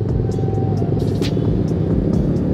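Steady low engine rumble and road drone from a motorcycle riding at night, continuous and close with faint passing traffic, no talk.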